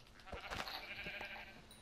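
A Minecraft sheep gives a few short bleats in the blocky survival world, quiet and close, with nothing else heard alongside them.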